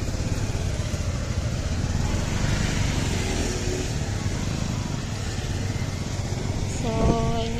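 A motorized tricycle's engine runs in a steady, loud, close rumbling drone. A short tonal beep rises above it near the end.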